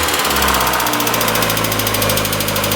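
Engine of a 1994 Mazda Miata with a lifter tick and a freshly replaced exhaust flange gasket, revved up and held at a steady buzzing drone, close and loud.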